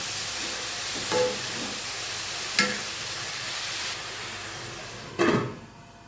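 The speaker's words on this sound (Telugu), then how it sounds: "సాల్ట్ వేసుకున్న తర్వాత కలుపుకొని బ్రౌన్ కలర్ వచ్చే వరకు మూత పెట్టుకొని ఫ్రై చేసుకోవాలి" Salted onions frying under a lid in a pan give a steady, soft hiss and sizzle, with a few louder brief bursts of steam or lid clatter spread through it.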